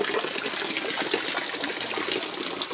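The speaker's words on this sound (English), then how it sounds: "So this is bath fountain" Hot mineral water pours and splashes steadily from the Bath fountain in St Thomas, Jamaica, a close, continuous gushing flow.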